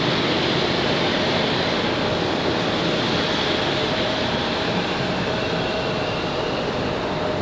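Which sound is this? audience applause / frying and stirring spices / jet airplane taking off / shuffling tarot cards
jet airplane taking off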